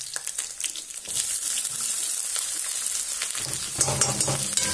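Onions and ginger garlic paste frying in a pan, a steady close sizzle with faint stirring scrapes and a slightly fuller crackle in the last second, no voices.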